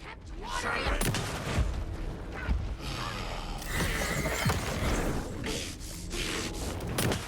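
Gunfire in the survival-horror game Alan Wake 2, at a lake: repeated loud shots and bursts close by, packed densely over several seconds and mixed with game effects.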